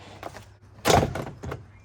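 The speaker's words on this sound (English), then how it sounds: "And then the door panel should clip off." A single plastic snap and thunk as a Vauxhall Corsa door panel pops loose, followed by a couple of softer knocks, close up.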